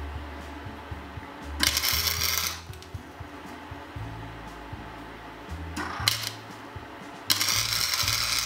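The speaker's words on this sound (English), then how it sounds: "Putting the C-clamp there, I give myself a little hand rest to work from." Metal C-clamp being tightened on a windmill restoration, bursts of ratcheting, grinding metal-on-metal turning at close range, separated by quieter pauses, with no talking.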